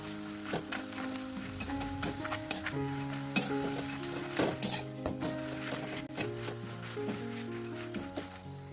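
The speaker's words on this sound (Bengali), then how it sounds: "আলু ভাজা লবণ হলুদ মাখিয়ে তেলের মধ্যে দিয়ে দিয়েছি" Potatoes coated in salt and turmeric sizzle in hot oil while utensils clink and scrape now and then, with a faint tonal hum in the background.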